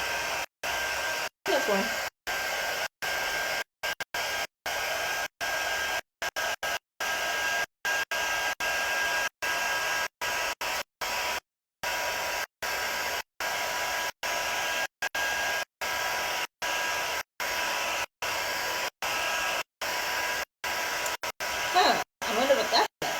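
A craft heat tool blows a loud, steady whooshing roar while drying a craft project, broken by frequent brief cutouts; a voice speaks briefly over it near the start.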